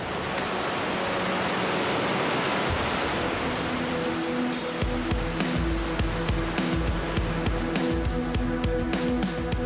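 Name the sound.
ocean waves crashing against cliffs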